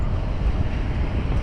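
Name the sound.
wind outdoors on a street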